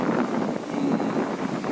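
Wind gusts buffet a microphone outdoors by the waves, a loud rumbling rush that swells and dips without pause over its short length.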